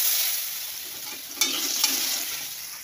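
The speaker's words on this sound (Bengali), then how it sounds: "এবার আলুগুলো ভাজতে দিব।" Potatoes frying in hot oil, a steady hiss and sizzle throughout with two brief sharp crackles midway, close and clear, with no speech.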